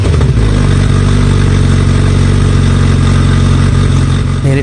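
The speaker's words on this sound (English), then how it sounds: "can we get a sound check on the Kawasaki ZX14R," A 2020 Kawasaki ZX14R sport bike runs close and loud with a deep, steady engine drone and no breaks or voices, holding a constant note for a few seconds.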